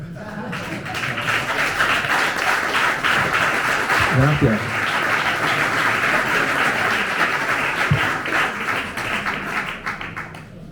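An audience applauds after a book presentation, sustained, dense clapping that holds steady for about ten seconds, with a single voice briefly speaking over it.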